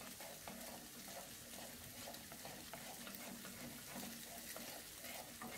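A masala preparation, later joined by Maggi masala, fries on high flame while being stirred, a soft steady sizzle with repeated scraping strokes at an even rhythm and no voices.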